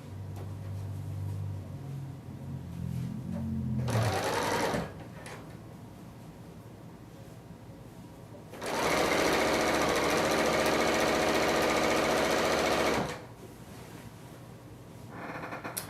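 A Bernina L890 serger trimming selvages off pillowcase fabric whirs loudly in two bursts, a brief one and then a longer steady run of several seconds, with quieter handling sounds between and no talking.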